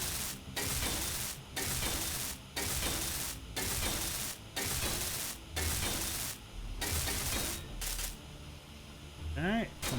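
Welding blocks in the space-building game Space Engineers, a rough hissing rub that runs in repeated bursts of about a second each with short gaps between them, steady and close, ending with a brief rising electronic whine.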